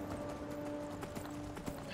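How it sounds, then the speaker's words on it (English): Steady horse hooves clip-clopping in a fantasy role-playing video game, a slow horse being ridden, with rhythmic muffled hoof falls over a constant droning game soundscape, a faint whinny among them. "Riding a slow horse can be bothersome."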